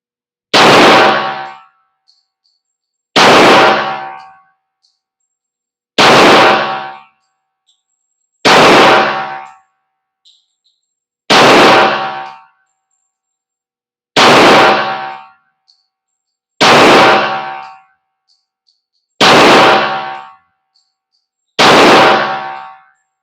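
A Glock 22 .40 caliber pistol fires nine evenly spaced, very loud, sharp shots with ringing decay, roughly two and a half seconds apart, on a range with no talk.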